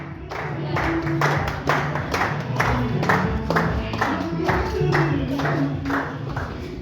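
An audience at an Ethiopian Easter cultural celebration claps steadily for a poet, the applause sustained and fairly close throughout, with a few sharper individual claps standing out.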